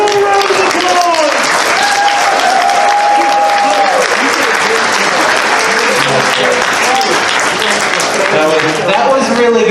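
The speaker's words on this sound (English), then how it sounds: "Ladies and gentlemen, give them all a round of applause." Audience at an improv comedy show applauding loudly and continuously, a dense roar of clapping with cheers, while people on stage talk over it.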